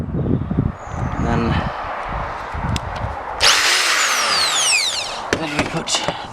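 Power drill boring holes through a van body, whining loudly in short bursts with a rising, pitch-sweeping spin-up mid-way, close to the mic.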